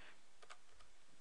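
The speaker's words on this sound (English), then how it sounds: "So I'm just going to type," A few quiet keystrokes tap on a computer keyboard, faint and brief, over low background hiss.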